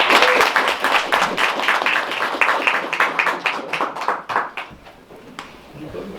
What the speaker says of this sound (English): We could give a round of applause for Arek.